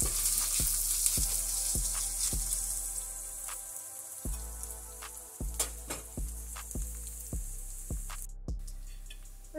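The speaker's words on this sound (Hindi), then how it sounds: "इसको प्याज के साथ एक मिनट तक भून लेना है" Chopped green chillies frying with onion in a pan for paneer bhurji, a steady loud sizzle with regular ticking spoon taps against the pan, close and with no talk.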